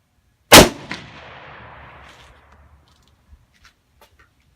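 A single sharp, loud report from a scoped rifle built for accuracy, fired at a shooting range. A long fading echo rolls out over about two seconds, followed by faint small clicks.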